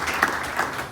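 A church congregation applauding, a brief burst of dense clapping at moderate distance, fairly even with a couple of louder peaks.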